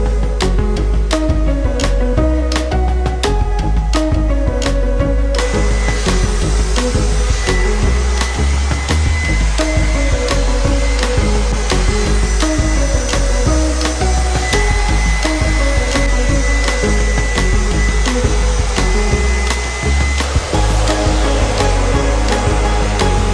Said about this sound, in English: So I'm gonna use a hand dryer to like give it some heat.